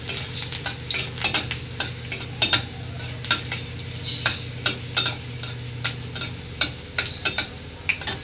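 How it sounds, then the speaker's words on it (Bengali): Dried red chillies and chopped garlic fry in oil with a steady sizzle, punctuated by frequent sharp scrapes and clinks of a spoon stirring against the pan, close and alone. "এর মধ্যে 2টো শুকনো লঙ্কা ফোড়ন দেবো আর একটু রসুন কুচি দেবো, দিয়ে লাল লাল করে আমি ভেজে নেব।"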